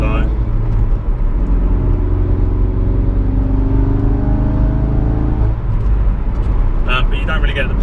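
Ford Focus RS with a Mountune M400R upgrade, its engine a loud close rumble with rising and falling rev tones layered over a constant low drone, and a crackle of brighter noise near the end.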